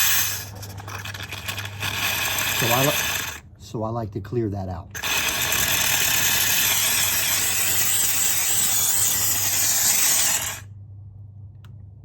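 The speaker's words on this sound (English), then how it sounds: "when you first squeeze the trigger, you get a little spitting going on before the steam actually happens" Handheld steam cleaner used while detailing a VW GTI interior, a loud broadband hiss of steam that cuts out briefly while someone speaks, then resumes steadily for several seconds before stopping.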